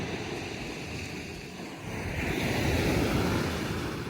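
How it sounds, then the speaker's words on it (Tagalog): Gentle waves lapping along a calm seashore with a steady wash of surf and some wind buffeting the microphone, swelling slightly louder toward the end, no talking. "Ngayon po ay kalmado ang dagat."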